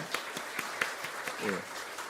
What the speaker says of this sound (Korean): 큰 박수로 환영해 주시기 바랍니다